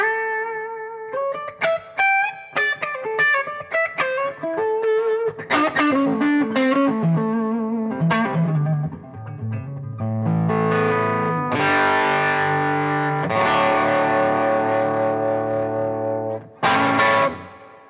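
Electric guitar played through a light fuzz-like overdrive pedal, with a run of quick picked single notes giving way to sustained, gritty chords, loud and close with a brief pause near the end.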